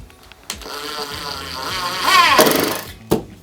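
A power drill whines as it drives screws into wooden blocking for a DIY tiny house awning, a rising motor buzz of a couple of seconds with sharp clicks before and after, close by.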